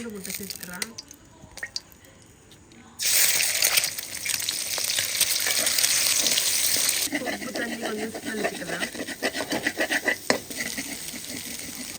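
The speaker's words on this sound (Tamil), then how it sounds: "ஃபர்ஸ்ட் ஆஃப் ஆல் கறி மிளகாயை வந்து பொறித்தெடுக்க வேண்டும்" Curry chillies frying in oil, a quiet crackle that bursts into a loud, dense sizzle with stirring, while a voice talks at times.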